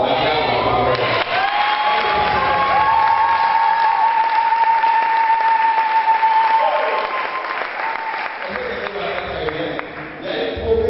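A worship audience bursts into sustained, loud applause, the clapping continuous for around eleven seconds, with a few voices calling out and rising above it.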